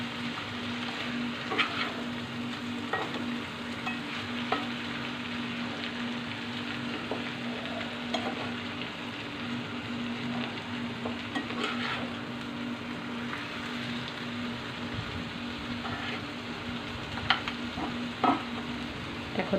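Fish pieces being stirred with tomato and onion in a frying pan, a steady soft sizzle under intermittent scraping and clinking of the spatula, close and fairly quiet throughout with no talking.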